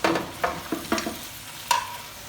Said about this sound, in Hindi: इस पर हमने चिकन की अच्छी तरह से भुनाई करनी है।